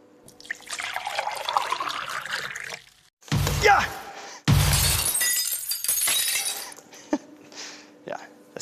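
An ordinary drinking glass cracks and shatters as boiling water is poured into it, with pouring and trickling water, a sharp glass break, then dripping and tinkling fragments close by.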